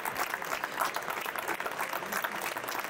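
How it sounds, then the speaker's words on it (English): An audience claps for the winner of an electronics contest, a dense, steady round of applause that fills the whole stretch with no let-up. "Please, one big round of applause for our winner."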